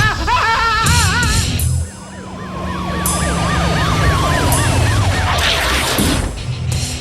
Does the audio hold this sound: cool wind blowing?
no